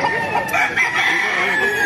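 A rooster, a Kelso gamecock, crows loudly and close by at a market, one drawn-out call filling the short moment with no talking.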